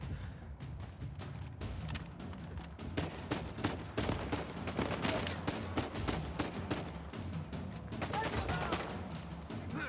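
Rapid gunfire from the Uncharted 4 video game, a dense continuous volley of shots and impacts running throughout, loud and close, with game voices and sounds mixed in.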